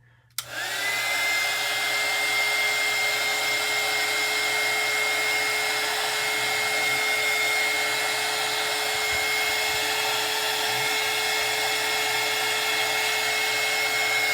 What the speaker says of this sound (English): I'm going to hit her a little bit with this heat gun and dry her out a bit